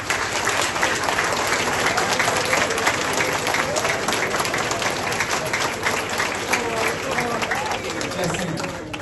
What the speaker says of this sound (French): je vous demande d'applaudir mon père qui est dans la salle